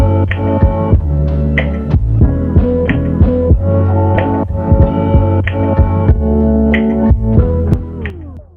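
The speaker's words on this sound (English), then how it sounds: "Looks like the little micro pump might not have enough juice." A small micro pump runs in a predator fish tank while the filtration is being upgraded, giving a steady electric hum with a soft throbbing pulse. It is close and fairly loud, and its weak flow barely moves any water.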